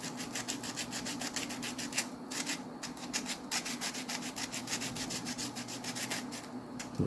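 Gunk is scrubbed out of a Tyco Power Torque Baldwin RF-16 Sharknose HO scale model locomotive, making steady, close-up rubbing strokes in a continuous scratchy rhythm with no talking.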